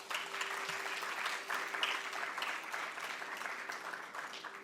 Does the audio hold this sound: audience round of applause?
yes